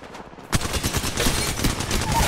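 Rapid automatic fire from the Alternator gun in the video game Apex Legends bursts in after a brief quiet moment, a dense rattling stream of shots that keeps going to the end.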